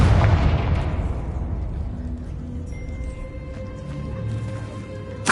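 An explosion from the Confringo spell in Hogwarts Legacy bursts loudly at the start, then a long rumbling decay fades out, with faint magical chimes lingering and a small pop at the very end.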